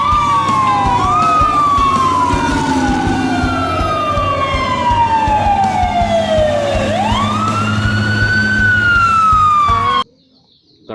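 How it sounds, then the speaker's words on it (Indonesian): A fire truck siren wails loudly and close, its pitch sweeping down in long slow glides and rising again in a steady repeating cycle, with low rumbling traffic beneath before it cuts off abruptly near the end. "Di sini ada truk pemadam kebakaran."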